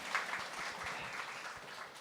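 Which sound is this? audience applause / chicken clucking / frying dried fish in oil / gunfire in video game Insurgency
audience applause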